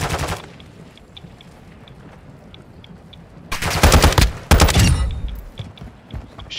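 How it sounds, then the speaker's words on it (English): Automatic gunfire in Warzone 2.0 DMZ: a brief burst at the start, a quieter stretch with faint distant pops, then two loud sustained bursts of rapid shots up close. "I'm just getting shot at."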